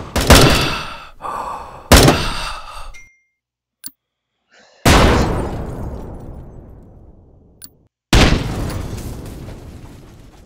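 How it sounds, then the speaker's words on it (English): Grenade blasts in the shooter game Bullet Force: several loud, sudden bursts that each decay over a second or two, separated by brief silences and a couple of small clicks. "Граната пошла!"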